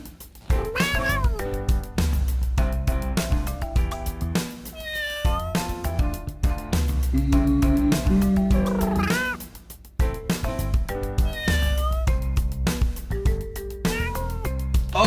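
A cat meows again and again in bright, varied calls that are layered over a busy, upbeat music track, with loud and steady sound throughout and no speech.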